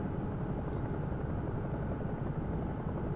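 A Bell 222 turbine helicopter cruising on autopilot in the X-Plane 11 simulator gives a steady, muffled low rotor and engine drone that holds evenly from start to end, with no talk.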